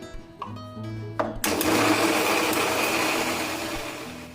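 A mixer grinder starts up partway through, whirring loudly and steadily as it blends tomatoes and green chillies into a paste, after a few clinks and a short tonal hum beforehand.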